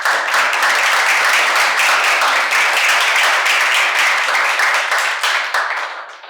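A crowd applauding for a student centre at a university event, dense continuous clapping that stays loud throughout and thins slightly toward the end, with no speech over it.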